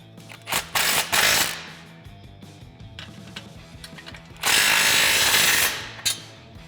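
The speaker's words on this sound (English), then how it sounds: "I'm going to use a 14mm swivel socket, just like I did in the Uninstall, and a 15mm wrench to hold the nut" A 14mm swivel socket and wrench tighten an exhaust clamp nut on a 2011-2014 Ford F150 5.0L or 3.5L EcoBoost, with several loud bursts of rapid metallic ratcheting and clicking close by, separated by quieter tool handling.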